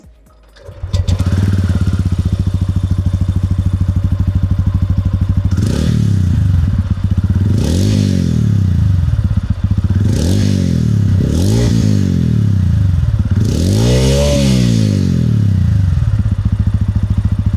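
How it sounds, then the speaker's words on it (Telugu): A TVS Ronin motorcycle's exhaust gives a steady, thumping low idle, punctuated by several loud revs that rise and fall, close to the microphone with no talking. "ఫస్ట్లీ టీవీఎస్ రోనిన్కి మీరు చూసుకుంటే కొంచెం థంపింగ్ ఎగ్జాస్ట్ సౌండ్ ఉంటుంది అనమాట."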